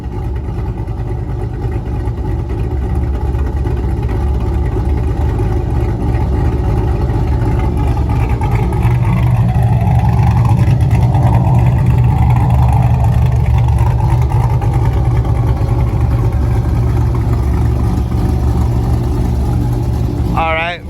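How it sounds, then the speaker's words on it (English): 5th gen Camaro V8 with a cam upgrade and DOD delete idling with a choppy lope, a steady deep rumble that swells slightly midway, heard up close with no talk. "Car sounds better. Idles a lot better."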